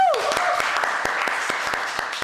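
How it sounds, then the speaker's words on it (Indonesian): Applause at an Indonesian campus talk about a stage design course, steady dense clapping that runs the whole stretch with a few sharper individual claps standing out and a brief voice at the start. "Tepuk tangan lu, Bos."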